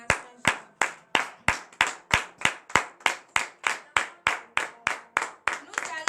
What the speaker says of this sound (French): Veuillez vous lever et donner de vives acclamations à